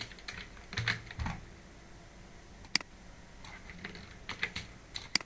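Fingers typing a Gmail address on a computer keyboard: a few scattered, soft key clicks in small clusters, close but faint against quiet room noise.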